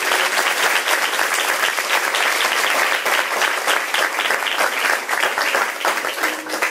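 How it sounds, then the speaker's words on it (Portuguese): A church congregation applauds together, a dense, loud and continuous clapping that fills the room and holds steady for several seconds with no talking over it. "Vamos aplaudir a palavra do Senhor."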